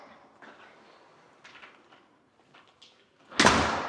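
A house door to the garage of a Texas home opens with a sudden loud thud and rattle near the end, after a stretch of quiet room noise and faint shuffling.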